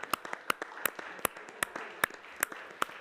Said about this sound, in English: we'll give them a big applause